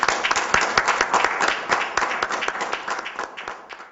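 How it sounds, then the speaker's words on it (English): A debate audience bursts into applause, many hands clapping loudly and steadily before gradually fading out. "Let us give our debaters a tremendous round of applause."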